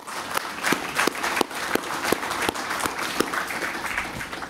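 An audience applauds during a special address by Papua New Guinea's Prime Minister, giving steady, dense clapping throughout with sharper individual claps standing out.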